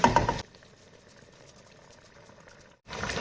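A pot of water boils steadily after sticky rice has been added, bubbling softly and continuously between louder handling noises at the start and end.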